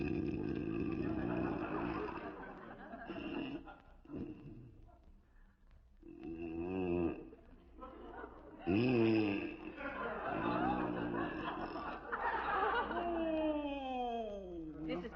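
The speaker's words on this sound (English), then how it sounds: "John, there must be something that'll put a stop to that hideous snoring." Comic snoring effect from an old-time radio comedy, rasping and rhythmic with a whistling, falling tone near the end, mixed with voices of people talking.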